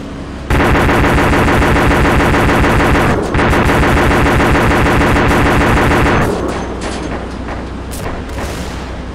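A mounted machine gun in a military shooter game fires long, rapid, continuous bursts, loud and close, with a brief pause midway before the firing stops and leaves a rumbling echo.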